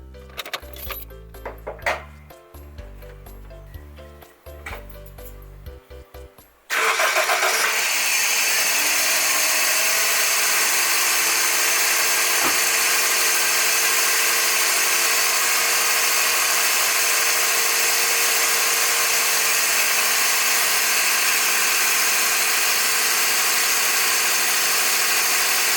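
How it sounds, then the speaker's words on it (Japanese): Car engine starting cold after running about 100 km on Liqui Moly molybdenum oil additive; a sudden loud start then settles into a steady, even idle, preceded by some clicking and handling noises. "今日のコールドスタートから、"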